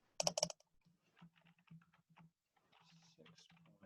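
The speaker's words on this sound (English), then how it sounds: "So we get a calculator out for that." Calculator buttons are pressed in a quick burst of clicks, then scattered lighter taps follow with pauses, faint and close in a quiet room.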